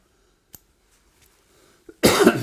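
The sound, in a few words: cough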